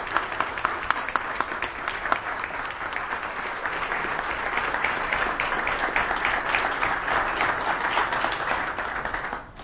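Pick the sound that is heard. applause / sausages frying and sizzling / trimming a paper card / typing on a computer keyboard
applause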